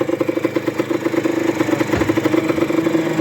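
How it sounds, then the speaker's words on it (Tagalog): A two-stroke Yamaha DT 125 motorcycle engine idles steadily nearby, with a rapid, uneven putter and light mechanical clatter running throughout. "Andar na makina."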